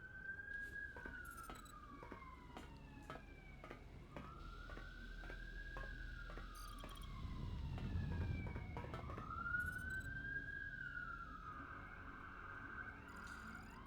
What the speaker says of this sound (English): that's because there are sirens, because I live in the downtown of a major American city.